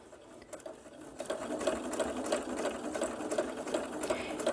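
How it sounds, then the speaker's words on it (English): Sewing machine stitching through a quilted Snowflake Santa cookie rug, a steady fast mechanical whir with rhythmic needle clatter that starts softly and builds to a constant close-up drone, with no voices. "I'm going to stitch on this line towards the inside"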